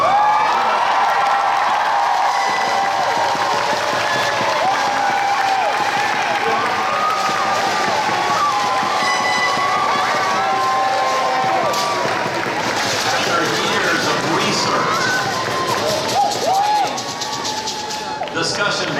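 Sustained applause from graduates and audience at a Walden University graduation ceremony, steady and dense, with some cheering and murmuring voices mixed in throughout.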